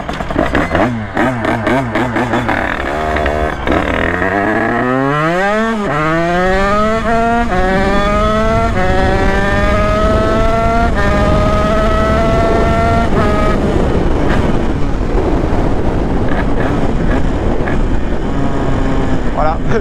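A motorcycle engine close by and loud, its revs climbing smoothly in a long rising whine, then holding at a high steady pitch with rough vibration underneath.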